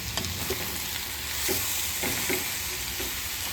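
Potatoes and carrots seasoned with rock salt sizzling in a pan on the stove, a steady frying hiss broken by a few soft scraping strokes of a spoon stirring, close and moderately quiet with no talk.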